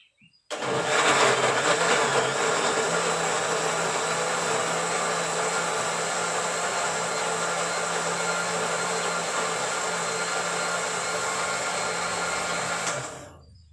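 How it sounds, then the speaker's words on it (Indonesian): An electric blender whirs as it purees pineapple for a homemade liquid fertilizer, switching on abruptly, running at a loud steady whine for about twelve seconds, then cutting off, with no voices. "Kenapa harus kita blender teman ya? Karena kalau di blender bisa halus"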